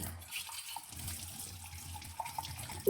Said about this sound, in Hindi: एक कप रह गया था मेरा, उसी को वॉश कर ताकि सुबह दिक्कत ना हो